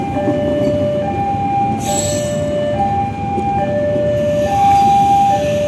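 An Indonesian Sancaka passenger train carrying executive and premium classes rumbles loudly and steadily, with horn-like tonal whines alternating over the heavy rolling noise and no talking heard.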